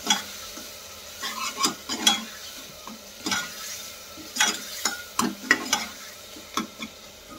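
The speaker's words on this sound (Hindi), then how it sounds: "फिर हम ये मसाला भूनेंगे। मसाला तब तक भूनेंगे जब तक हमारे टमाटर मैश ना हो जाए।" Masala with onion and tomato fries in a pan under a soft sizzle, while a spoon stirs in irregular scraping strokes and knocks against the pan.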